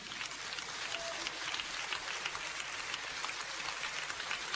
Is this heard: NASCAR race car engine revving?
no